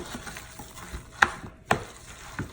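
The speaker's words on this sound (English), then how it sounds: "So you mix the paste very well." A spoon works through a thick kimchi paste with soft, wet stirring and squelching, and two sharper clinks against the bowl are heard along the way.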